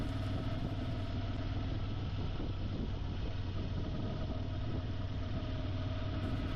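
A car engine drones steadily at highway speed on a short road stretch in eastern Ontario in October, a constant low hum and road roar with wind noise, moderately quiet and unbroken throughout.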